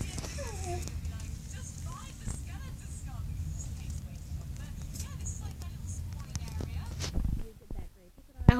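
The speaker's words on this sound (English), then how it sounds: "My horse, and I get this brown horse" Hooves of a brown horse clip-clopping steadily in a video game, a quiet continuous patter of footfalls with a faint breathy background, ending in a couple of louder knocks.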